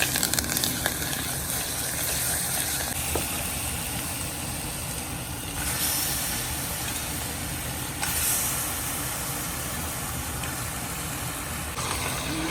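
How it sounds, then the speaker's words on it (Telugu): Mutton sizzles in a pan with ginger garlic paste for a Telugu-style mutton curry: a steady, close frying hiss runs throughout, with a few brief louder surges and no talking. "అల్లం వెల్లుల్లి పేస్ట్ వేసి బాగా తిప్పి మటన్ వేసేస్తున్నాను"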